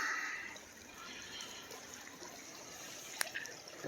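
High creek water running just below a bridge, a faint steady trickling wash with a few small splashes and clicks near the end.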